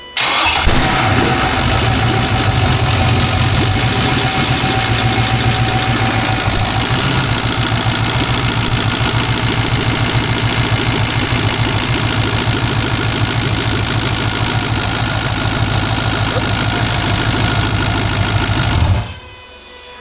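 Fire-damaged 6-litre LS V8 engine cranking, catching and running with a steady, loud, busy idle and a ticking mechanical clatter throughout, then cutting off abruptly near the end.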